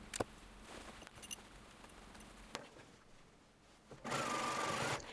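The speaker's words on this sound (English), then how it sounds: "Machine the waistline seam." Sewing machine stitching the waistline seam of a shirtwaister dress, with faint handling taps and clicks at first, then a short, steady burst of the motor running near the end.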